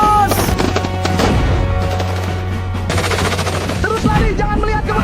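Machine-gun and rifle fire in an AI-generated war film about destroying a Dutch base, loud rapid bursts of shots crackling continuously over a low droning rumble, close and dense throughout.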